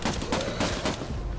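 Loud gunfire in the video game Redeemer, a rapid string of shots fired in quick succession with no pause.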